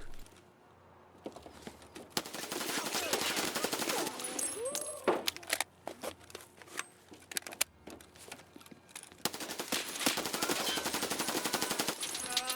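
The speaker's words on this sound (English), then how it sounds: "At this point, I stopped shooting at Reshala" Rapid automatic gunfire rings out in the Escape from Tarkov video game on the Customs map, with sustained bursts and scattered single shots, loud and close, pausing briefly between volleys.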